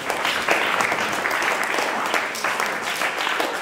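A class of seventh-grade students applauds a classmate during a chemistry quiz, bright steady clapping from many hands that fills the room from start to finish.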